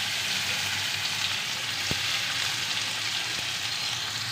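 Chopped onions frying in a pan (kadai) with two cardamom pods, preparing a Bengali katla fish kalia; a steady, even sizzle of hot oil runs continuously, close and moderately loud, with no talk.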